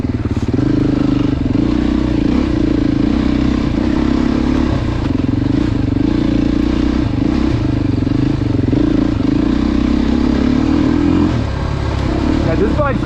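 A Beta dirt bike engine being ridden at a demo day, with smooth power delivery, drones loudly and up close at a steady pitch for the whole stretch, never dropping away.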